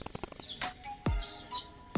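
A Cochin bantam chick chirps close by, several sharp high peeps spaced irregularly, with faint small rustling between them.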